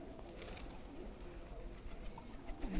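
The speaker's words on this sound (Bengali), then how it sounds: "ওই যে দেখেন ডাক কবুতরের" Pigeons coo softly at a distance over a steady outdoor background hum, with faint chirps and rustling.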